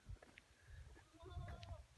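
A few soft bleats from nearby sheep, faint and brief, mixed with low rustling and muffled movement.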